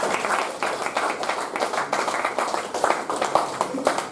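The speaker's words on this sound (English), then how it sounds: "Let's give her a round of applause." Clapping from a Toastmasters meeting audience, a light round of applause with dense overlapping claps that hold steady for a few seconds, some murmured voices mixed in.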